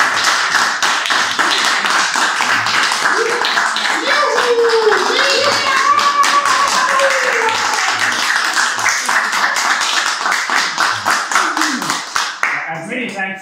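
Audience at a policy discussion meeting on the Eastern Partnership breaks into strong sustained applause for a speaker, dense close clapping fading out near the end, with a voice starting to talk as it dies down.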